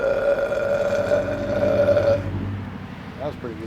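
A man lets out a long, loud, resonant burp lasting about two seconds, close to the listener, followed by a brief pause and faint voices.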